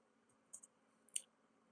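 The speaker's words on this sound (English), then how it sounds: "typing with one hand" A computer keyboard is typed on with one hand, giving a few faint, sparse clicks, a quick pair followed by a single sharper tap, in an otherwise quiet room.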